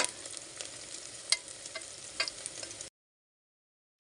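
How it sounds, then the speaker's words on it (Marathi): Chopped onions sauté and get stirred in a pan for prawn rice, a close sizzle with a few scraping stir strokes, lasting about three seconds before cutting to silence. "कांद्याला आपण परतून घेऊया व्यवस्थित कांद्याचा चांगला गुलाबी कलर येऊ द्यायचा त्याला छानपैकी परतून घेऊया"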